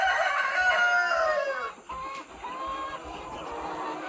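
Dekalb Brown chickens kept for breeding cluck and crow close by, with a drawn-out crow followed by shorter clucking calls.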